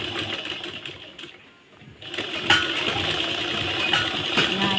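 A sewing machine stitches pieces of a belted blouse, running in a steady close whir with a brief pause before it resumes.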